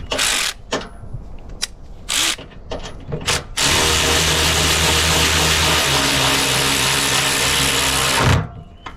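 A power tool drives in the mounting bolts of an aluminum radiator on a Chevy Silverado with a 6.0 engine swap. A few sharp clicks and handling knocks come first, then a loud, steady whirring run lasts about five seconds before cutting off abruptly.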